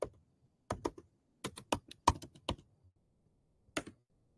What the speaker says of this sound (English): just type in the name.